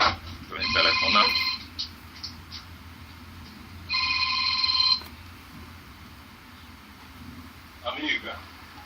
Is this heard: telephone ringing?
yes